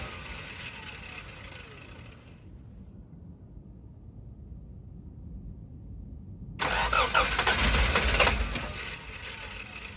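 A Toyota MR2 engine starting for the first time after work on it. It cranks, goes quiet for a few seconds, then catches with a loud burst of revving and settles toward a rough idle.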